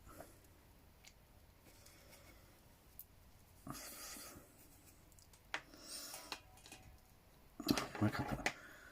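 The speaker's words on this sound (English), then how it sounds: "You draw this rune here, all right?" A rune drawn by hand with a pen on paper for a banishing spell gives soft, intermittent scratching strokes, faint and close, with brief louder bursts of rubbing and scribbling toward the end.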